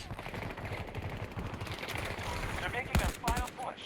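An AK5C rifle fires in the video game Battlefield 2042 in rapid automatic bursts with a few sharper shots near the end, while someone talks over it.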